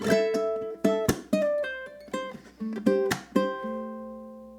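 A ukulele plays a measure of a song, mixing strums with plucked single notes. The bright, ringing notes come in a steady rhythm and the last chord is left to ring out.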